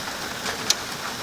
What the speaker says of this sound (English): Well, folks, it just started to rain.